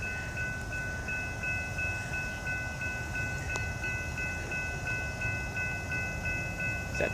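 An FEC freight train, number 436, passes at a distance, its quiet rumble carrying a faint, steady two-tone horn that holds across most of the stretch, with no voices.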